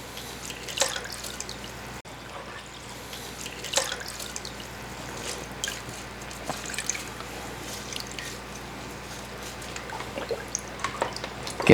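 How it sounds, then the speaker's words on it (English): A wet aquarium sponge filter is squeezed out into tank water, making close dripping, splashing and trickling sounds in irregular bursts over a low steady background hum. "All I'm going to do is just squeeze it off into the tank"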